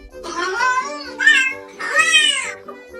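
A cat meows three times in a row, close to the microphone. The calls are clear, drawn out and rise and fall in pitch, with quiet gaps between them and no talk over them.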